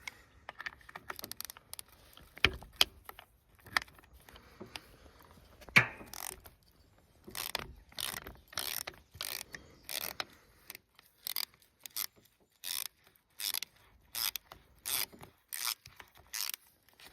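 Ratchet working a 14 mm hex in the fill plug of a John Deere 70D / Hitachi EX60 excavator final drive, giving repeated sharp metallic clicks in short bursts, close and fairly quiet, with no talk.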